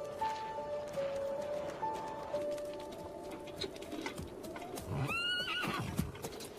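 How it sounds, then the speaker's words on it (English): A horse whinnies sharply near the end, with faint hooves clip-clopping earlier under soft birdsong and dove-like cooing in a quiet rural setting. "I'll hitch up the horse when we go get that stove."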